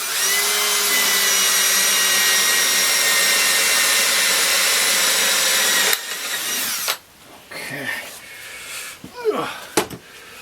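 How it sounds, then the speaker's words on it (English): A power drill whines loudly and steadily for about six seconds while drilling a steel plate, a Volkswagen Type 4 engine fan hub, then winds down, followed by scraping and metallic clatter. "So we're gonna at first I'm gonna drill this out."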